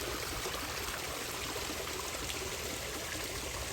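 A koi pond waterfall flowing steadily, making a loud continuous rushing splash of water with no pauses and no voices.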